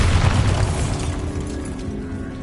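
A deep booming blast from the Bombarda explosion spell in a Harry Potter video game, loud at first and then decaying into a rumbling tail.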